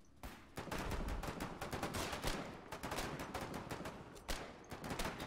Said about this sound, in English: He shot his friendly!